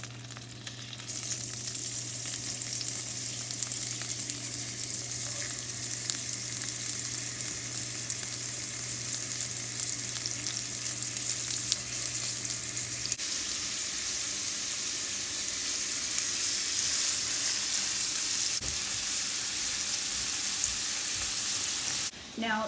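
Lobster tails sizzling flesh side down in lemon butter, a steady, dense frying hiss that continues throughout with a low hum underneath for the first half.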